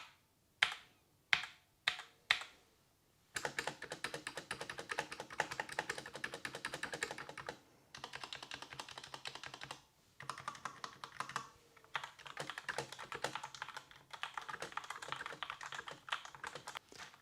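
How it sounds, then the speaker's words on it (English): Fast typing on a Tecware Spectre Pro mechanical keyboard, close and crisp: a few separate key taps at first, then a dense, continuous run of clacking keystrokes with brief pauses, no voices. "let's do a little bit of a typing test"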